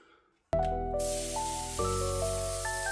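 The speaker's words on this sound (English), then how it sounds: "let's get to spraying" An HVLP spray gun spraying paint starts with a sudden burst of air and then hisses continuously, a loud, steady spray with a whining tonal edge.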